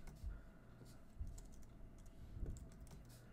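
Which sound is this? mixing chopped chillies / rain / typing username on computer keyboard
typing username on computer keyboard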